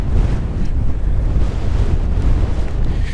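Strong wind buffets the microphone on a beach at Fort Ebey, a continuous loud rumbling roar with surf-like gusts and no voices.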